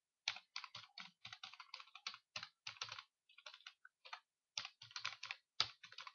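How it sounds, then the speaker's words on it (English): An email address is typed on a computer keyboard in quick clustered bursts of key clicks with short pauses between runs, close and fairly quiet, with no talking. "let us type this email address"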